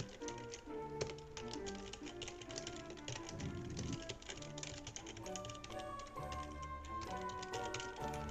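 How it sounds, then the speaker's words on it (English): Mechanical keyboard keys clack in quick, uneven bursts of typing, close and fairly quiet, with no talking over it. "It's a nice mechanical keyboard."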